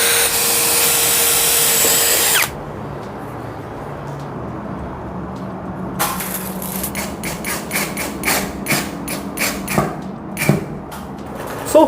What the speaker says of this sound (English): The only reason why I'm drilling holes here is because I marked out the line